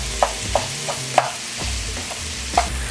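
Sausage meat cooking in a pan for southern biscuits and gravy, with a utensil stirring it: soft frying sizzle under several sharp scraping taps against the pan at uneven intervals, close by and with no talking.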